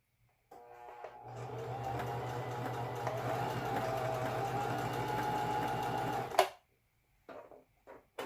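Singer M3220 sewing machine running a steady stretch of stitching for about six seconds, its even mechanical whir and rapid needle rhythm close and clear, then stopping, followed by a few brief handling noises.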